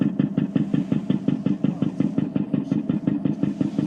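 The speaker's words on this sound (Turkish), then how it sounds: "Daimler'in yaptığı tek silindirli motor." An 1886 Daimler single-cylinder engine running in a Mercedes museum, a steady, rapid, even chugging pulse of firing strokes heard close and loud throughout, with no voices over it.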